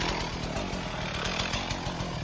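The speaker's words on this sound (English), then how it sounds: "This piece I'm gonna cut off a piece of firewood on the end." A chainsaw cuts a piece of firewood from the end of a fallen oak limb, with a close, loud, buzzing engine whine that pulses rhythmically as the chain bites through the wood.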